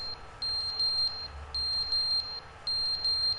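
A fire alarm in the video game The Stanley Parable sounds in repeated bursts of shrill electronic beeping, three clear pulsing groups with short gaps between them, loud and alone without any talk.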